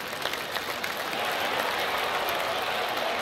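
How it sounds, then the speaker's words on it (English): A golf gallery applauding and cheering in PGA TOUR 2K21 at Winged Foot West, a dense, steady wash of clapping that swells slightly and holds, heard alone without talk. "And the crowd goes wild."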